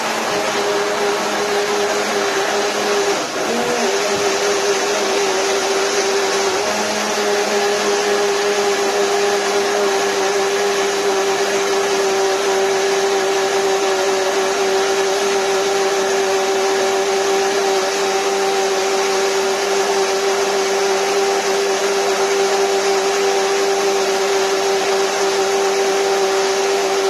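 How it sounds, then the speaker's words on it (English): An electric blender runs on corn kernels for nearly half a minute, a loud, steady whirring motor drone with a brief shift near the start and no voices over it. "I put the corn in the blender."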